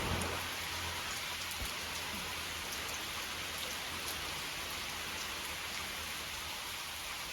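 Steady rain pours down at GSK Farm, a cattle farm, as a dense, continuous hiss of drops striking surfaces, even in loudness throughout with no voices.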